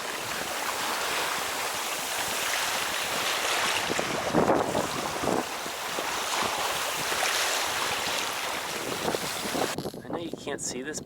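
Strong wind roars across a Rob Roy 23 sailboat broad reaching on Penobscot Bay, with loud, gusty microphone buffeting and rushing water throughout until a brief quieter moment near the end.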